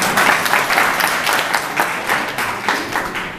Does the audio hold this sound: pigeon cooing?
no